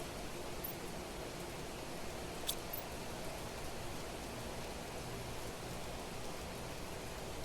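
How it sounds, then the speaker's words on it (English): Steady rain ambience in the survival game The Planet Crafter, a dense even hiss of falling water with no distinct drops standing out, quiet and unbroken throughout with one faint tick midway. "I will say the rain effects in this one, maybe not my favorite, but the ambiance is good"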